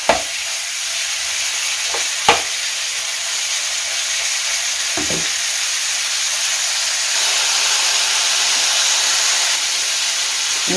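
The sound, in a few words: meat browning and simmering in a pot with bay leaf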